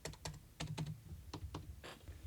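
Keys on a computer keyboard clack in quick, irregular taps, a dozen or so close clicks in a quiet room, with no talking.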